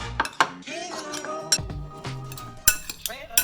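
Red food colouring powder is stirred into a Vietnamese three-colour dessert mixture with a spoon that clinks and scrapes against the bowl, close and repeated, with no talking.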